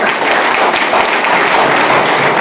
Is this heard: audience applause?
yes